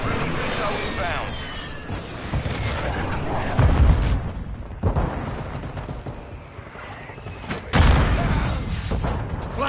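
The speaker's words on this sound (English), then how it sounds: "Friendly missile inbound." Missile strike explosions in Modern Warfare 2 multiplayer, two heavy booming impacts near 3.5 and 7.7 seconds over continuous gunfire and battle noise, with voice callouts throughout.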